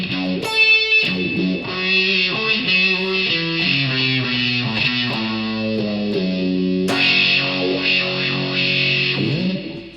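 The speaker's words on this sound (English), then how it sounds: "If you do add distortion to it, make sure you add the distortion before the wah pedal." An electric guitar runs through distortion and a wah pedal, playing sustained, gritty notes and chords whose tone sweeps and shifts, loud and alone.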